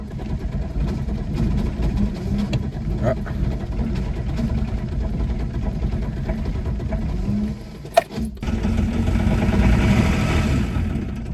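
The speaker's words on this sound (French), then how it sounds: "On va essayer de redémarrer la voiture." Volvo 240 with a troubled engine, its motor cranking and struggling before catching, then running with a steady rough idle nearby; a short voice exclamation sounds near the restart.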